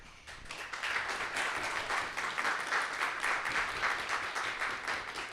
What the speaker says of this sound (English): Plenty more clapping to do, just a heads up.